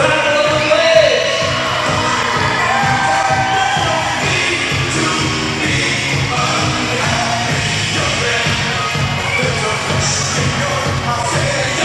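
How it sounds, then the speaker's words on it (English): A big crowd at a Battle of the Blades skating event in Saugeen Shores, 2018, keeps up a loud, sustained roar of cheering and yelling, with scattered shouts and whoops running through the din. "make some noise for Battle of the Legs!"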